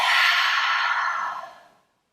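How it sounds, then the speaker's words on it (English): A single long, deep exhale through the mouth during a morning yoga breathing exercise, close and breathy, fading out over about two seconds with no talk. "inhale deeply and exhale"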